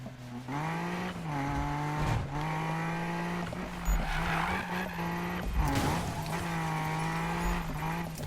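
A car drifts in the Need for Speed video game on PS4, its engine whining at high revs while tires squeal and skid continuously in long sliding bursts, loud and close, with no talking.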